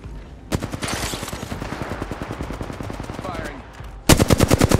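Rapid automatic gunfire in the battle-royale shooter Apex Legends, long sustained bursts of evenly spaced shots at close range, with a louder, harsher burst at the end.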